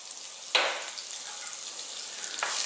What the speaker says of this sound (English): So let's just fry these around for 4 minutes maybe, keep stirring them.